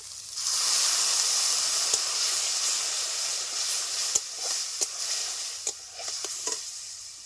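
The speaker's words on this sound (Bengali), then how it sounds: "স্বাদ মতো লবণ একটু জল দিয়ে মশলাটাকে আমি ভালো করে কষিয়ে নেব" Spice paste with Kashmiri red chilli powder, salt and a splash of water sizzles and hisses steadily in a pan for fish curry, with faint clicks of stirring and scraping near the end and no talk.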